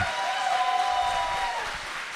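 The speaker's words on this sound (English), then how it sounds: "Keep your applause going for your main man, Donald Trump's worst nightmare, Destiny." A crowd at an anti-Trump debate tour event in Seattle keeps up sustained applause and cheering for Destiny, a dense, even roar of clapping that fades slightly toward the end.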